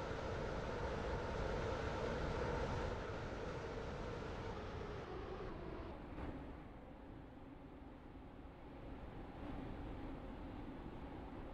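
Low rumbling of a class 143 train rolling into James Street station and slowing, the noise easing off partway through and settling into a quieter steady hum.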